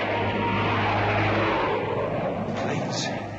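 Low-flying airplanes in a 1950s science-fiction film trailer, a loud droning engine roar that holds steady and then begins to fade toward the end.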